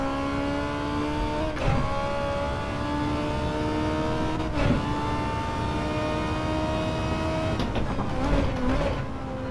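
A front-wheel-drive car in Gran Turismo 7, played on a sim rig, drones and revs steadily with rising engine tones broken by a few sharp gear shifts, loud and continuous with no talking.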